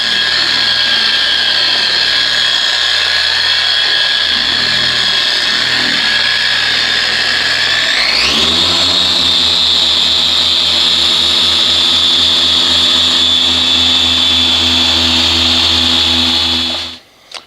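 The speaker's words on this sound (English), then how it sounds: "do this section right here with the Porter cable and the microfiber disc" A Porter Cable polisher fitted with a microfiber disc buffs the hood of a black 2014 GMC Sierra, its motor humming steadily, then shifting pitch upward midway and running on loud before cutting off.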